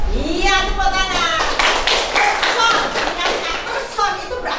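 A group of students in a classroom clap their hands, bursts of sharp claps mixed with a voice talking over them, fairly close and lively.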